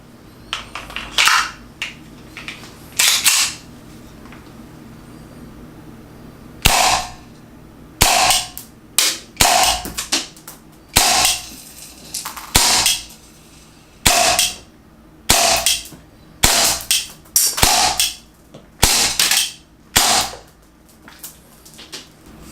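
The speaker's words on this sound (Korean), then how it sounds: "KJW 베레타 이 가스건을 가지고 사격 테스트를 한번 해보도록 하겠습니다" A KJW Beretta gas pistol fires single shots in a shooting test, sharp close reports coming one by one at irregular intervals, about a dozen and a half, over a quiet background.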